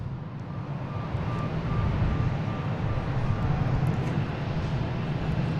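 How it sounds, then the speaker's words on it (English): A Delta Airbus A330 airliner at Boston Logan International Airport gives off a steady, broad jet roar that swells gently and holds at moderate distance, with no voices over it. "Another A330 coming out for Delta."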